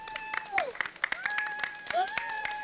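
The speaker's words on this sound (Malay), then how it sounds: "Berikan tepukan untuk dia." A small podcast studio audience claps in sharp, scattered bursts, with individual claps standing out alongside voices and tonal sounds.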